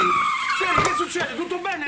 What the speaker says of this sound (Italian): sembra stia arrivando un'auto a tutta velocità